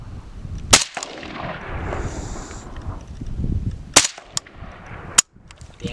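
AK and AR-15 rifle shots at an outdoor range on a windy day: three or four sharp, loud cracks spaced irregularly over a few seconds, with wind and faint background noise between them.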